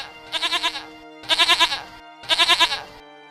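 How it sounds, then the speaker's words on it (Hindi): Three loud, nasal goat bleats in a row, each a quavering, pulsing cry about a second long with short pauses between, close and clear with no talking. "अचानक मेरे मुंह से बकरे की आवाज आने लगी"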